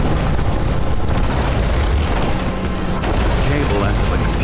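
Explosion in the video game Nobody Wants to Die: a loud, dense roaring blast with crackling, rumbling debris sustained across the whole stretch, heavy low end and no speech over it.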